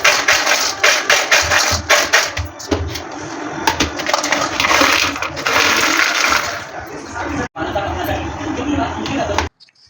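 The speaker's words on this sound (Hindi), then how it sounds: "आई होप आपने आवाज सुनी और आपको पता चल गया होगा कि कितने ज्यादा क्रंची बने हैं" Loud, dense crunching and crackling bites of crispy French fries, rapid and close, continuing for several seconds with a brief gap near the end before stopping.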